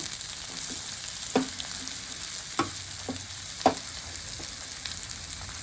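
Onion hits hot oil with mustard seeds in a pan, giving a continuous close sizzle with a few sharp pops and scrapes from stirring, no voices.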